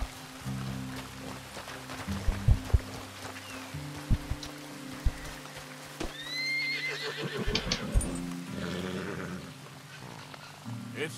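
A horse whinnies in Red Dead Redemption 2 amid hoof clip-clops and scattered knocks, with a low hum and some voices in the background.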